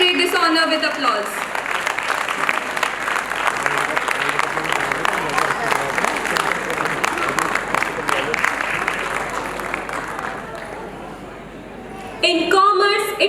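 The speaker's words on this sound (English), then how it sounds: "Let us celebrate this honor with applause." An audience at a school annual day celebration breaks into sustained clapping for an award winner. A voice briefly precedes it, then the applause fades and speech resumes.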